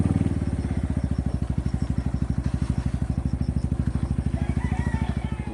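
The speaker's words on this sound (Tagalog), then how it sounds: "Parang hindi na makatakbo yung motor sa putik." A motorcycle engine labors on a muddy road, thumping in a steady, rapid pulse close to the listener. The strained, throbbing beat holds for several seconds with no talk over it.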